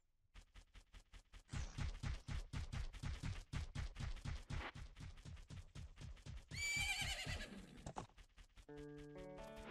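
A horse in the Zelda Majora's Mask video game gallops with rapid, rhythmic clip-clop hoofbeats, then gives a loud neigh near the end as the hooves continue, followed by a short musical chime.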